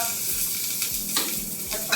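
Curry leaves hit hot oil with asafoetida with a loud crackling sizzle and quick spattering pops, close up and continuous.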